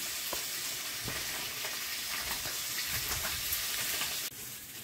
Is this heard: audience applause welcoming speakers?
no